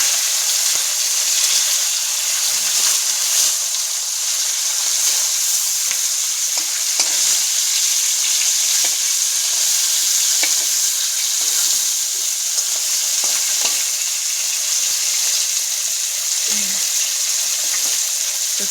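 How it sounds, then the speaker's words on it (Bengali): Fish fries in a pan with a constant, bright hiss of sizzling oil that holds steady throughout, with faint pops and kitchen clatter underneath. "তো চলো এদিকে ভাজা হোক"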